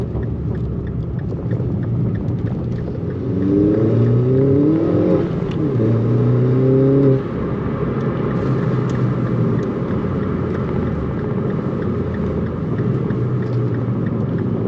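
A Mini Cooper JCW track car with an AIRTEC open air intake, its engine idling with a low rumble, then revving up and down in several rising sweeps before settling back to a steady idle.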